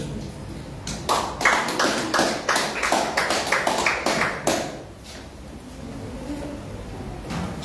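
A church congregation claps hands together in a steady burst of rhythmic applause lasting several seconds, close and loud, then fades into room murmur.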